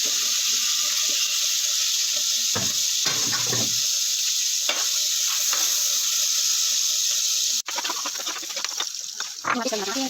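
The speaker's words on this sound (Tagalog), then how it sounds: "So, igisa na natin ang ating mga sangkap." Tomato, onion and garlic sautéing in hot oil in a home kitchen, giving a loud, steady sizzle throughout with a few louder clatters of stirring and a brief drop near the end.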